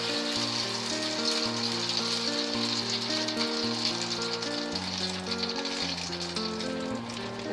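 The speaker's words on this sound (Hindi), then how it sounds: "इसको हम सिम फ्लेम पे अच्छे से फ्राई होने देंगे।" Aloo bhakarwadi pinwheel samosas, dipped in a maida slurry, fry in oil over a low flame with a steady, even sizzle that runs throughout beneath louder tonal background music.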